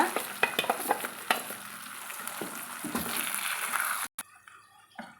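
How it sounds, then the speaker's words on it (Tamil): Onion and dough for kozhukattai are sautéed in a pan, with sizzling oil and repeated scraping strokes of a spatula that stop abruptly near the end, leaving only a faint hiss. "இப்போ வந்து ஒரு நிமிஷம் இப்படி வதக்கி விட்டுட்டு இந்த மாவு வந்து கூடவே நம்ம சேர்த்தி வதக்கி எடுத்துக்கலாங்க"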